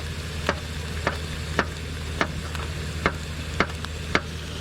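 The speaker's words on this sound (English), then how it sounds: "Oh, okay, so that's boiling." Pot of water on a camping stove in a parking lot, a steady hiss of burner and simmering with regular sharp clicks or taps about every half second, close and fairly loud, no voices.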